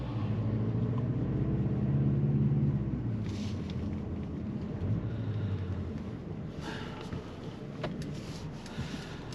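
A 2023 Mercedes-Benz CLA 250 4MATIC Coupe with a 7-speed automatic driving in sport mode, its engine droning and rising in pitch before easing into a steady cabin rumble with road noise, heard from inside with no talk.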